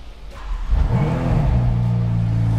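A Ferrari F8 Spider's engine fires up with a sharp catch, flares into a loud rev and then settles to a steady, throaty idle close by.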